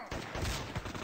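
Tactical rifle gunfire in the video game Guns and Llama, a dense burst of rapid shots over about a second with no pauses, loud and close with no talk over it.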